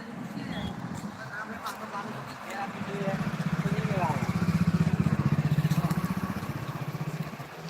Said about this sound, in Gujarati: એ બાઇક ચાલુ છે